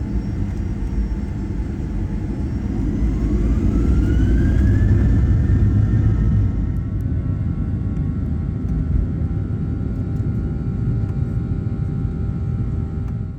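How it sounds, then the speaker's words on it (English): A Ryanair airliner climbs out from runway 22 after takeoff from London Stansted, a loud, steady cabin roar of jet engines with a rising whine in the first seconds that settles into a constant drone. "Climbing out of runway 22"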